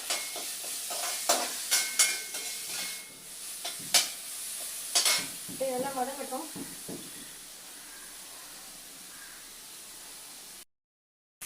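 Curry leaves and vegetables sauté with a little salt in a pan for drumstick sambar, heard as a soft steady sizzle with several sharp stirring clatters early on, faint voices, and silence at the very end.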